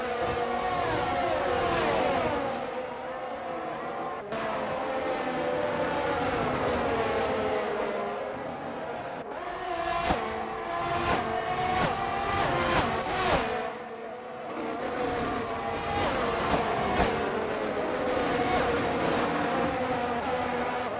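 Formula 1 race cars in a video game race, engines whining and howling steadily as they run side by side down a back straight, pitches rising and falling through gear changes, loud and continuous with no talk.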